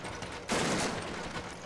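A single heavy gunshot booms in Resident Evil 5 and its echo rolls out for over a second behind it, with faint game ambience before the shot.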